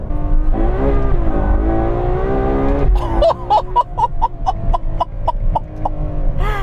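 A 2018 Ferrari 812 Superfast on its stock exhaust in race mode gives a loud, close engine drone that gives way to a series of sharp, rapid revs.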